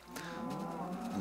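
A cow moos in the Minecraft video game, one drawn-out low bellow lasting about a second, fairly soft and heard alone without talk.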